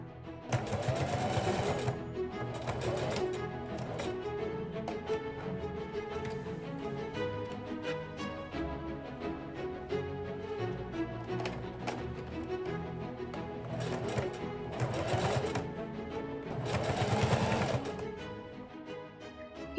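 A sewing machine hems the raw fabric edges of pieces for an 1870s Victorian bustle cage. The needle motor runs continuously and rhythmically, surging louder in a few places, with no talking.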